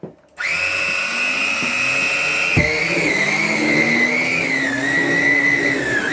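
A Karcher T9/1Bp vacuum cleaner drives a homemade powered turbohead brush on a cheap carpet, starting with a whine and a steady loud motor hum that shifts pitch as the brush spins up, close and continuous.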